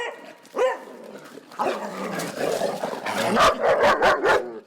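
Several dogs bark and yip close by in an indoor or yard setting, sharp overlapping barks building toward a rapid burst near the end, with a whimper early on.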